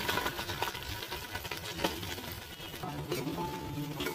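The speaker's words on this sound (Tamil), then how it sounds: "கடுகு பொரிஞ்சதும் சின்ன வெங்காயமும் கருவேப்பிலையும் சேர்த்துக்கலாம்." Small onions and curry leaves sauté in a pan of popped mustard seeds for idli sambar, giving a soft continuous frying crackle with light stirring scrapes close by.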